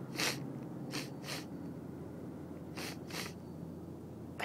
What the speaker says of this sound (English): Can you hear me sniffle?